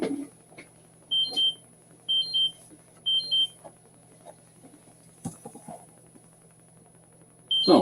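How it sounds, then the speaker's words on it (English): Phone alert for a glucose sensor: three short, evenly spaced pairs of high electronic beeps, followed by one more beep at the end, heard against a quiet room with faint rustling. "I've got my phone beeping."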